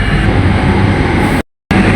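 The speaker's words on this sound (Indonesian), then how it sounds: "kereta api Cikuray yang saya naiki udah berangkat ya di stasiun Cikampek" KA Cikuray passenger train pulling away from Cikampek station, a loud, steady broadband rumble and rolling noise heard from on board, briefly cut to silence near the end before resuming.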